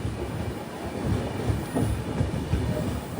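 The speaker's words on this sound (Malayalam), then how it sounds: "10:15 ട്രെയിൻ ഇപ്പോൾ കറക്ടഗി സ്റ്റേഷനിലേക്ക് ഇതാ എത്തുകയാണ്" The Yesvantpur–Sindhanur Express rolls into a rural station with a steady low rumble and faint wheel clatter, moderately distant and without speech.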